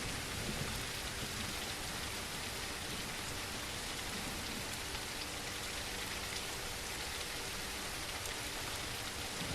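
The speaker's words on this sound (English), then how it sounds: "Rain is ending" Rain falls in the survival video game The Isle as a soft, steady, even hiss of many drops on surfaces, continuous and fairly faint, with no talk.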